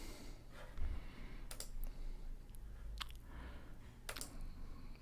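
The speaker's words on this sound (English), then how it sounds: "Lots of clicking." Computer mouse and keyboard clicking at a desk during a software demo, a few quiet, scattered clicks over a faint steady background hiss.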